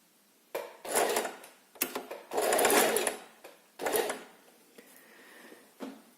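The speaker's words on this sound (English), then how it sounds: "The feet will be on that line that we ironed, and we will start sewing." Sewing machine stitching an invisible zipper, running in several short bursts of whirring stitches separated by brief pauses, close and clear with no talk.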